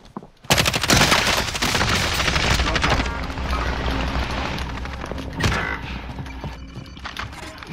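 Small-calibre gunfire in Call of Duty: Modern Warfare: after a brief quiet start, dense rapid shots and a booming blast erupt together, then thin into scattered fire and battle noise that gradually fades.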